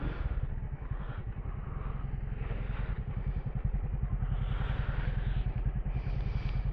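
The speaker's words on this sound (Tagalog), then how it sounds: "Painitin muna natin ang engine." Motorcycle engine idling to warm up in heavy rain, a close, fast, even low-pitched putter that holds steady throughout under a rushing wash of rain.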